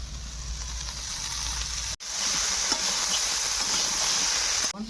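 Vegetables sautéing in a pan for vegetable khichuri, a continuous loud hissing sizzle with a brief cut partway through, no speech.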